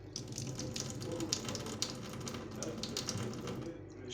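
Clean water from a compact home purifier with an 8-litre tank and a two-in-one tap runs steadily, a continuous close splashing stream with no pauses.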